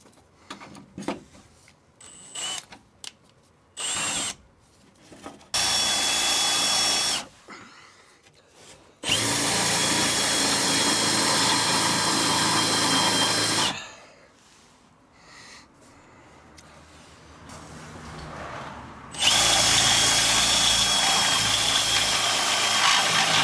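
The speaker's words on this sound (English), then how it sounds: "and then attach the drill." A power drill whirs loudly up close in three bursts, a short one and then two longer runs, with clicks and handling noises in the pauses.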